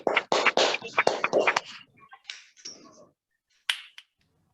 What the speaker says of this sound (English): Requesting all our members to unmute and give a ear-throbbing applause to